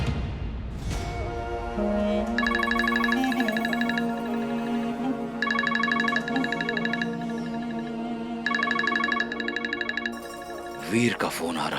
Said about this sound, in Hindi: वीर का फोन आ रहा है।